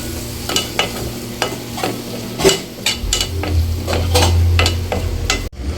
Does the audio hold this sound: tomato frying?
yes